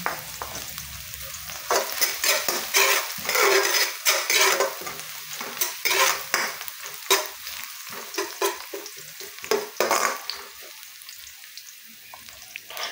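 Sliced garlic hits hot oil in a pan with a rising sizzle, followed by repeated scraping and clinking of a utensil stirring against the metal, loud and close with no talking.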